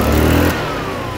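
A Kymco Agility 125 scooter engine that won't hold idle and floods revs loudly for about half a second, then abruptly dies, leaving a quieter low rumble behind.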